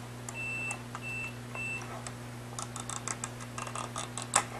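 A digital multimeter set to continuity mode gives three short, evenly spaced high-pitched beeps, followed by faint clicks and taps of the probes against a circuit over a low steady electrical hum.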